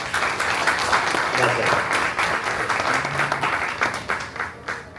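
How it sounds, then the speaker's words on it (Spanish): Audience applause at a business talk show taping, a continuous wash of clapping that stays loud for several seconds before easing slightly, with faint voices mixed in underneath. "Así que muy bien, un aplauso por eso."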